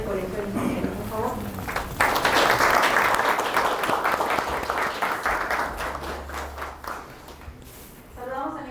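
An audience at an evening engineering lecture applauds warmly to welcome a guest, the clapping swelling into a sustained, full-room ovation with a speaker's voice heard before and after it.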